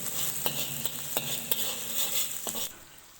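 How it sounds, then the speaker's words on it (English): Chopped garlic and ginger sizzle in a tablespoon of oil in a Chinese wok, a continuous hiss broken by several sharp spatula scrapes and knocks, close, with no talking. "We will stir it."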